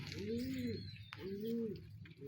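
Two low, rounded pigeon coos, one after another, close and clear against a faint background hiss.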